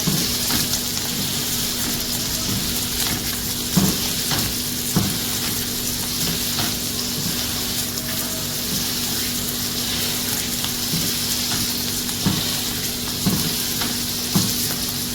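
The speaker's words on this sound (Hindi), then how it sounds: "अब हम 1 साइड को कुक करते हैं फॉर 3 मिनट, फिर हम इसे फ्लिप कर देंगे" A smash burger patty fries on a hot surface with a steady, close sizzle throughout, broken by occasional clicks and scrapes of a spatula, with no talking.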